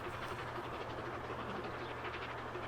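A train runs in the Transport Fever 2 video game, giving a steady, unbroken rumble of rolling wheels and engine noise that holds at an even level throughout.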